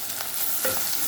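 Onions and tomatoes frying with rock salt for a chicken kuzhambu, a steady close sizzle with stirring scrapes and no talking.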